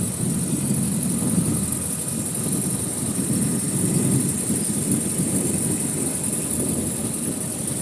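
A boat engine idles steadily in neutral, a low, even rumble with a constant high whine on top, running alone and unchanged for several seconds.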